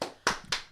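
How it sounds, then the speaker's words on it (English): Two sharp, close hand claps in quick succession, each a crisp, dry snap about a quarter second apart. "Let's clap."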